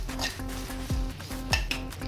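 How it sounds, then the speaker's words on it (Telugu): Cumin seeds and dried red chillies frying in a pan, with a soft sizzle under repeated clinks and scrapes of a spoon stirring against the metal, close by and without speech. "ఇందులోనే కారానికి సరిపడా ఎండుమిర్చి కూడా వేసుకుని వేయించుకుంటున్నాను."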